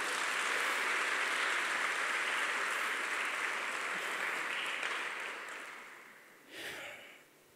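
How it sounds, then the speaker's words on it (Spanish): Sustained church congregation applause, a dense continuous wash of clapping that holds steady for several seconds, then thins and fades out, ending with a brief final swell. "Un aplauso al Señor por eso"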